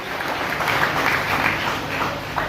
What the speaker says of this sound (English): Let's clap for all these amazing people.